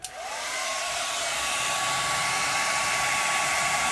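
A hair dryer starts with a click and then blows steadily and loudly at close range, drying a painted letter U as a continuous whooshing roar with a faint high whine.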